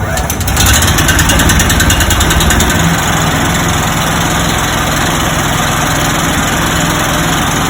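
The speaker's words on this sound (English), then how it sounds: "Now the motor's running." A crack sealer machine's small motor firing up and running loud and close, a steady rattling engine drone with a sharper onset at the start.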